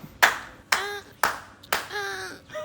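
Four sharp, evenly spaced hand claps ringing with a slight resonance, close and fairly loud, followed by a softer fifth clap.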